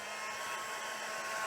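A steady, loud blowing roar of hot air from an embossing heat tool, constant and close, with no pauses or voices.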